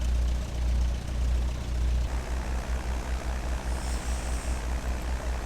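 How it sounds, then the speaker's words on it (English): A small plane's propeller engine idles steadily on the ground after landing, then shuts down and slows, its low throbbing pulse loosening as the drone fades under a constant hum. "Let's get in there and shut the engine down."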